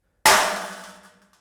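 A stick strikes a corrugated metal sheet with coins taped to it, giving one sharp, loud metallic hit that rings out and fades into a faint rattle over about a second, with no voices.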